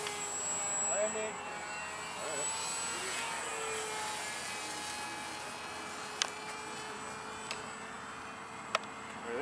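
A radio-controlled Boeing 2707-300 SST supersonic model jet comes in to land, its steady whining turbine roar heard from a distance with faint sharp clicks, while people talk quietly nearby.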